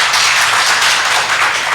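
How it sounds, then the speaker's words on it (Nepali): Audience applause closing a panel discussion at a radio current-affairs forum: dense, steady clapping from a crowd, loud and close, sustained throughout without pause. "यो सत्रलाई चाहिँ प्यानलतिरको छलफललाई टुङ्ग्याउनको लागि एकचोटि ताली बजाइदिनुहोस् न।"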